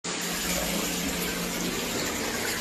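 Floodwater from a storm pours steadily into a luxury hotel room, a continuous loud broadband rush like a running tap or filling tub, with no pauses and no voices.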